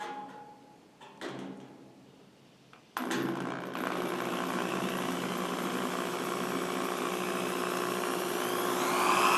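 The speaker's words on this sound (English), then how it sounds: "And then speed up once you get some metal being removed." A few quiet clicks, then a drill starts up loudly and runs steadily, its grinding whine rising slightly as it bores into steel for a power hammer crib.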